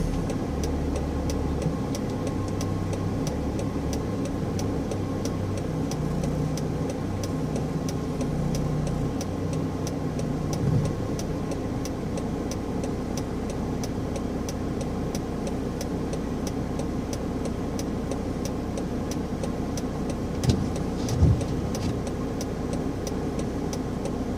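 A car engine labouring to pull out of snow on a blocked road in Germany, a low steady drone that surges briefly a few times, with no voices.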